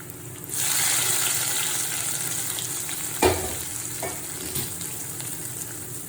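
Dried prawns frying in coconut oil give a steady, close sizzle that crackles throughout, with a brief louder burst of spatter partway through and no talking.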